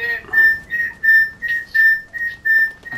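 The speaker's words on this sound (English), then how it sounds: "Bro, what is this whistle shit?" A loud, shrill whistle from the video game Fortnite repeats in about eight steady, evenly spaced blasts, each a clear pure tone, with no talking over it.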